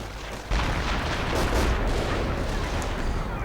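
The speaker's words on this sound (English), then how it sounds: "Lots of explosion, booby trap," Dense, continuous rumbling blasts and booming explosions, loud and close, with layered gunfire-like bursts throughout.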